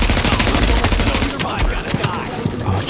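Rapid automatic gunfire from the video game The Division, a loud continuous rattle of shots with a few heavier bangs near the end.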